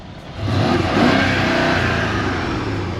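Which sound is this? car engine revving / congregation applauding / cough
car engine revving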